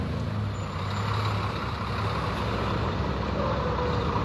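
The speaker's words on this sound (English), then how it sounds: "So as you can see, buses are pulling in." Buses rumble and idle steadily as they pull in at a street gathering in Port Elizabeth, heard as a continuous low engine drone and traffic noise for a few seconds with no talking.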